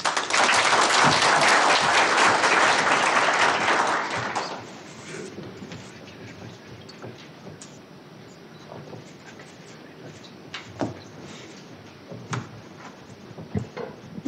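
Applause from a conference audience at a civil society organisations' week in Nairobi, fairly loud for about four seconds, then cutting off and giving way to a quiet room with scattered knocks and shuffles.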